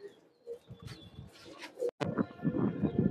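A male pigeon with red eye-rings coos in short low bursts amid other pigeon calls and faint chirps, close and fairly quiet, with a brief dropout midway and no talk.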